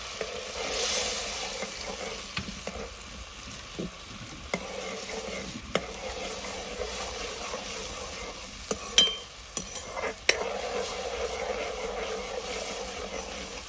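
Red tomato, ginger and garlic fry in hot oil, making a soft, continuous sizzle with occasional clinks and scrapes of a stirring spoon against the pan.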